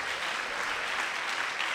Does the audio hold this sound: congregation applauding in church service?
yes